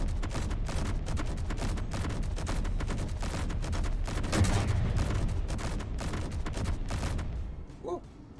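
Turret guns firing at the sky in Space Engineers, a video game: continuous rapid automatic gunfire, loud and close, holding steady for several seconds before cutting off.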